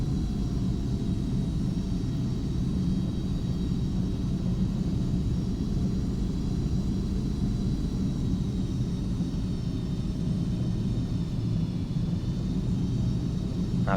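The engine of a Carenado Premier business jet in a flight simulator game drones with a steady low rumble and faint high whine, constant and unchanging throughout, with no voices.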